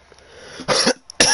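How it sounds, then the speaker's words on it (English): Two harsh, close coughs in quick succession, loud and abrupt, following a brief quiet breath. "That was a cough, thank you."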